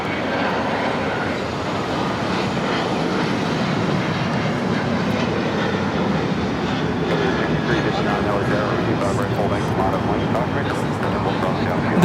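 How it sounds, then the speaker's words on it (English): A United Airlines Boeing 737-800 takes off at LAX, its steady broadband engine roar holding loud and continuous throughout, with radio or commentator talk running faintly underneath. "This is United Airlines 552 taking off to San Francisco on the 737-800"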